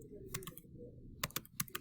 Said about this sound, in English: So you hit enter twice